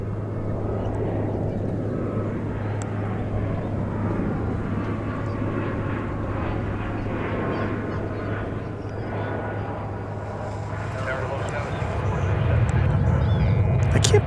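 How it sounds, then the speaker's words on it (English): An American Boeing 737-800 at DFW airport gives off a steady, distant engine rumble and whine that swells louder toward the end, under a constant low hum. "It's a 737-800, and it's on its way to Minneapolis, St. Paul"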